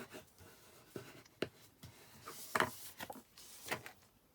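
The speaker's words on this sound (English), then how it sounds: "I just use my bone folder to go around the edges of card that's been cut with our trimmer" A bone folder rubs and scrapes along the trimmer-cut edges of cardstock in a few short, soft strokes, close and quiet with no talking.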